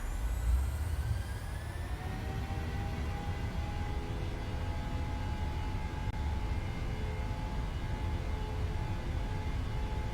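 Boeing 737 engines in a flight simulator spool up to takeoff thrust, a steady loud jet roar with rising whine tones climbing and settling into a sustained high drone throughout.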